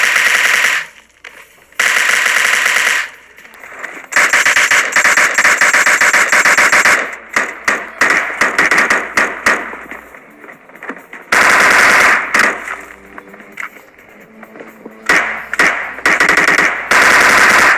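Rapid automatic gunfire and shotgun blasts ring out in a battle royale video game, loud repeated bursts with brief gaps and squealing game effects between volleys.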